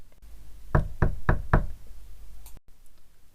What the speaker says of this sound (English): A third knock.